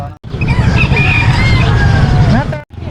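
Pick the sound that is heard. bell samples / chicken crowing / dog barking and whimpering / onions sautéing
chicken crowing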